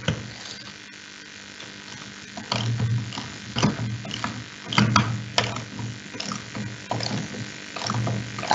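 A ratchet wrench tightens a bolt to a 16 Nm torque setting, giving short bursts of quick clicking in uneven spurts, fairly close and moderately quiet, with faint background noise between bursts.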